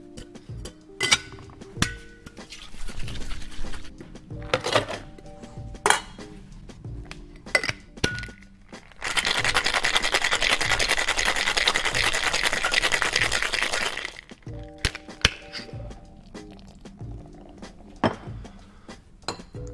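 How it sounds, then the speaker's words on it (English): A cocktail shaker is dry shaken with egg white for a Fireman Sour rum cocktail: scattered clinks and handling knocks, then a loud sustained rattling shake for about five seconds, followed by more clinks of glass and metal. "Give it a dry shake first to emulsify the egg white."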